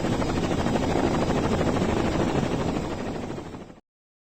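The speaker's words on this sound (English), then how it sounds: "Chopper heading north from Cape Town waterfront" A helicopter in a Carmen Sandiego video game, a chopper heading north from the Cape Town waterfront, roars with steady, dense rotor chop at close range, holding constant and then cutting off abruptly.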